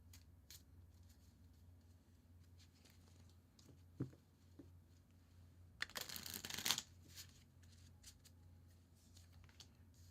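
French suited playing cards are riffled in a quick shuffle, a brief burst of dense fluttering clicks after soft handling taps and faint knocks, close and quiet.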